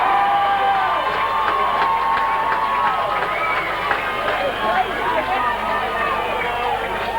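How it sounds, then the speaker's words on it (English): A football crowd at the Gosnells Oval grand final between Kenwick and Gosnells roars and cheers steadily, a dense wall of voices and shouts sustained throughout with no break. "As you can hear, listeners, the crowd certainly is firing up."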